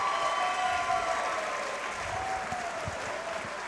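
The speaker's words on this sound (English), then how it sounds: "a round of applause for both of these championship fighters" A crowd at a championship fight event claps for both fighters, sustained applause that is loud at first and eases slightly, with a faint tonal hum running beneath it.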